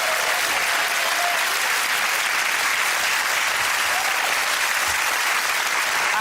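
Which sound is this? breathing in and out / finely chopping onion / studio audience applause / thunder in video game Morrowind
studio audience applause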